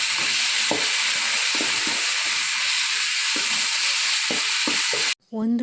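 Soy sauce, chilli sauce and tomato ketchup being stirred together in a hot pan for chicken fried rice, giving a steady loud sizzle with spoon clinks and scrapes, ending in a brief sharp scrape.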